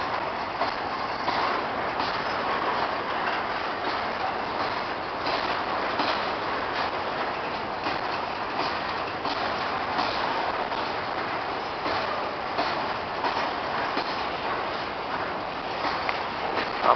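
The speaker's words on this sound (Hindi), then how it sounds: "मालगाड़ी यहाँ से पास हो रही है।" A long BCNHL freight train of 58 wagons rolls steadily past the platform at Vadodara railway station, giving a continuous, fairly loud rumble and rattle of wheels on track with no voices over it.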